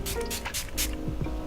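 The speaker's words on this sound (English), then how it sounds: "I'm going to be using the TooFaced Hangover Primer Spray." Too Faced Hangover primer setting spray misted from a pump bottle, several quick close hissing puffs in rapid succession within a second or so.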